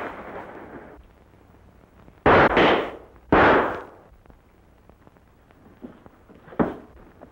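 Gunshots ring out in a 1943 western film, two loud, sharp blasts close together with echoing tails and a fainter third shot later, following a low murmur of background noise.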